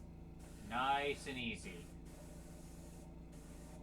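Tinted paint sprayed onto a miniature in short, soft hissing bursts, a few separate puffs following a brief spoken phrase, close and fairly quiet.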